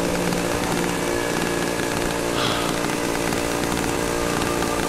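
A chainsaw runs continuously and loudly in the horror video game Cry of Fear, a dense, harsh buzzing roar that holds steady throughout with no talking.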